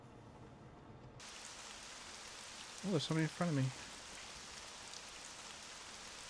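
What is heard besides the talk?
rain in the video game IL-2 Sturmovik: 1946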